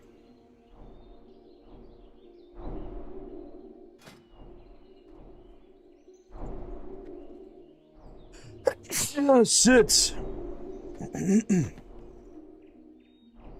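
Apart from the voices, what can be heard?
sneeze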